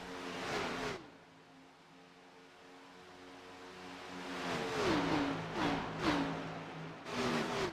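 Race car engines in a BMRL Xfinity Series sim race at Las Vegas, droning steadily with several cars whooshing past, pitch sliding down as each passes, loud bursts near the start and again toward the end.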